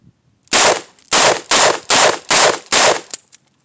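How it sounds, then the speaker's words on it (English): Rapid double-action cylinder dump from a Ruger GP100 4.2-inch revolver: six loud, close shots fired in quick, even succession, each a sharp blast with a short ring, then quiet. "I've never done a mag dump with a revolver before"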